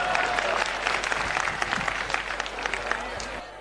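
Brief applause from a crowd gathered at a religious gathering, dense clapping mixed with voices and crowd noise throughout.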